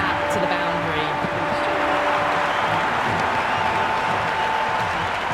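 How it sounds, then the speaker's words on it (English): Cricket crowd at a women's T20 World Cup match between Sri Lanka and New Zealand, cheering and applauding after a boundary, a dense, steady roar of clapping and voices that stays loud and continuous throughout. "The crowd are really getting quite raucous."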